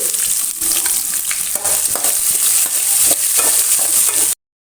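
Onions fry with salt in a pan for a Kundapur-style oyster masala, giving a loud, continuous, close sizzle with occasional stirring scrapes before the sound cuts off abruptly.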